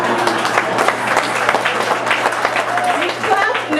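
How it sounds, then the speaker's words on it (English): A comedy-club crowd claps and cheers in a steady burst of applause, fairly close and loud, with some voices mixed in. "You clap now"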